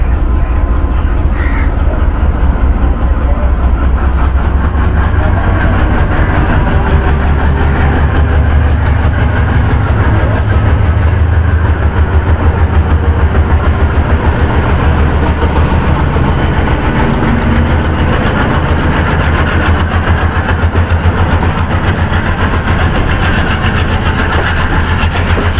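The Mohen Jo Daro Express rolls along the main line between Kotri and Rohri, a loud steady rumble of carriages and locomotive engine droning without pause, with no speech.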